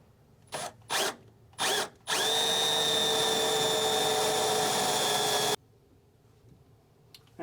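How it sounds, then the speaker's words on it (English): A power drill bores a hole through car body metal during a C5 brake system install, preceded by a few short trigger bursts, then one loud, steady run of several seconds before stopping abruptly. "I'm going to drill 1 hole just to see where it lines up"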